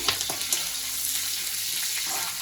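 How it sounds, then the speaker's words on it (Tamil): Ingredients sautéing in hot oil for a Tamil-style crab gravy, a steady close sizzle broken by scraping stirs and light clatter from the pan, with no voices. "இதெல்லாம் போட்டுட்டு கொஞ்சம் நல்லா வணக்கி விடணும் மக்களே"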